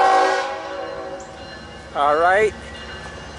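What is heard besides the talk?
train locomotive approaching with horn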